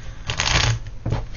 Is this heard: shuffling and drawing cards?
yes